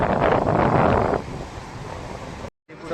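Strong wind buffets the microphone on the seashore at Chorwad, a loud rushing roar that eases after a second and continues as steady blustery noise, with a brief dropout near the end.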